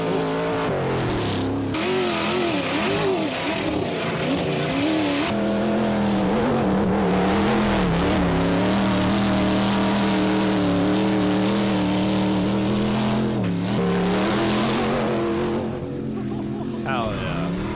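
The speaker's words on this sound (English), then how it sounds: "It's just a dude ripping a fucking NASCAR Cup car through the sand dunes." NASCAR Cup car tearing through sand dunes, its engine roaring steadily with rising and falling revs and shifting pitch, loud and close, with people talking over it.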